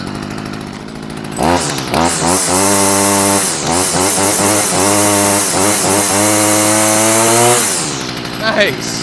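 A Stihl weed trimmer's small two-stroke engine runs after a carburetor repair, loud and close, revving up and down in bursts for several seconds before cutting back; someone speaks briefly.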